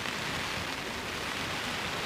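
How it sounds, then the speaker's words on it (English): Rain falls outdoors during a hiking expedition, an even, unbroken hiss of steady drops, moderately loud and with no voices over it. "It would be a good thing if it wasn't raining"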